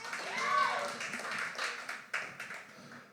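Audience at a poetry slam claps for a poet, a short burst of scattered clapping that swells then thins, heard under voices in the room.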